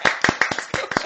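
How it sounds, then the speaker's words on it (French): A few people clapping hands in a TV studio, a quick burst of about a dozen close, crisp claps in an uneven rhythm. "J'ai envie d'applaudir, je sais pas pour vous"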